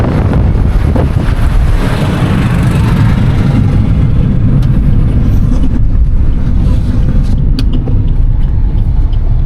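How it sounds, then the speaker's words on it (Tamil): Steady, loud traffic rumble on Poonamallee highway in Chennai, continuous low road and engine noise with heavy wind buffeting across the whole stretch, no talk. "ஏன்னா எவ்வளோ டிராஃபிக்காக இருக்குது சென்னையில்"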